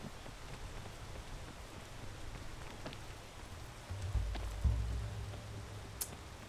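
Steady rain hisses in a video game, soft and even, with a brief low thump partway through and a faint high tick near the end.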